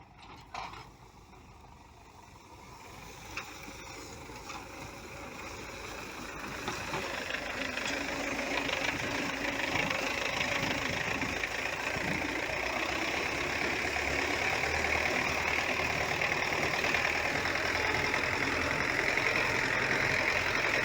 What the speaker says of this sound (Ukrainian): ходить трактор